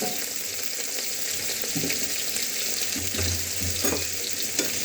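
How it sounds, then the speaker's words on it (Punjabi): Potato pieces frying in hot oil in a pan for a home-style aloo dish, a steady close sizzle with occasional low stirring knocks, no talking. "ਹੁਣ ਅਸੀਂ ਇਹਨੂੰ ਚੰਗੀ ਤਰ੍ਹਾਂ ਆਲੂਆਂ ਨੂੰ ਤਲ ਲੈਣਾ ਤਾਂ ਜੋ ਸਾਡੇ ਆਲੂ ਬਹੁਤ ਵਧੀਆ ਤਰੀਕੇ ਤਲੇ ਜਾਣ"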